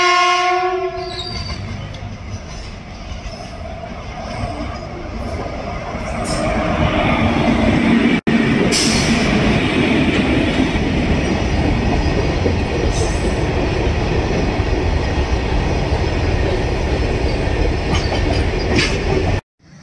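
At the railway gate by Ichchapuram North Cabin, a train horn blares loudly at first. A passing train then builds into a heavy, sustained rumble of wheels and wagons with some squealing, close by and continuous, with no speech.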